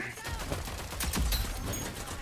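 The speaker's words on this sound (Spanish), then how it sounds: "Me da dos, tres tiros y me baja" Dense, rapid gunfire from the Rogue Company shooter game, with loud overlapping shots firing in quick bursts throughout.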